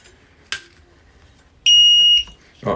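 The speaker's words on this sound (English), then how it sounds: "I'm charging batteries for it too, so you're gonna hear the beeping" A single loud, high electronic beep from a battery charger holds for about half a second, with a couple of soft clicks and handling noises before and after.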